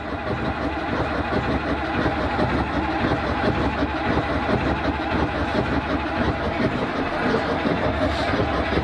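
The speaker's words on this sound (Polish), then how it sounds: "akumulator kręci, rozrusznik, ale chyba za słabą" A Fadroma Ł-200 loader's starter cranks on a weak battery, a steady, dense, churning drone held close and loud for about nine seconds without the engine catching, with faint voices in the background.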